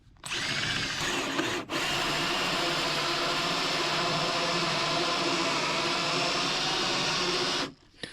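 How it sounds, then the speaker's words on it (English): A power drill bores into an interior door to cut the hinge recess, running loud and steady for about seven seconds with one short break near the start, then stopping. "moving the drill like this, so it cuts better like that."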